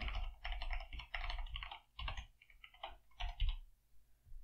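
Rapid typing on a computer keyboard, a steady patter of clicking keystrokes in short bursts with brief pauses, close and fairly quiet.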